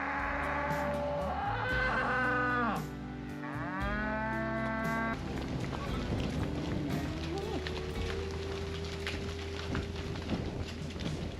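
Cows at a campsite in Suffolk let out two long, loud, nearby moos, followed by a continuous rumbling background that sounds like a passing vehicle.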